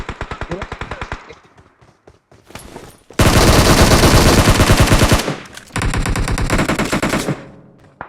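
Automatic gunfire in a PUBG match on a smartphone, rapid sharp bursts that fade to scattered shots, then two long loud sustained volleys of close machine-gun fire.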